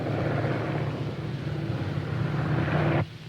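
A propeller airplane drones overhead with a steady, fairly loud engine hum that holds level for about three seconds before cutting off abruptly.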